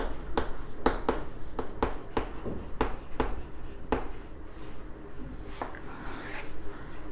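Pen writing on paper while filling in an accounting trial balance, a string of short rhythmic scratching strokes close up, with quieter rubbing between them and no talk.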